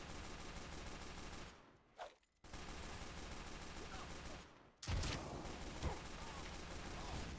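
Gunfire in the video game Team Fortress 2: a dense, steady burst of shots fills most of the clip, broken by a brief silent gap and a sharper blast near the end.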